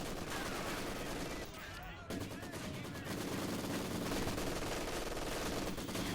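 Dense, continuous machine-gun and mortar fire from a Company of Heroes 2 battle, crackling loudly throughout with a brief dip near the middle and possible voice underneath.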